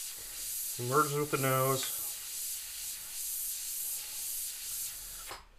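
An airbrush sprays paint for a skull design with a steady soft hiss, close and continuous, with a brief stretch of someone talking early on.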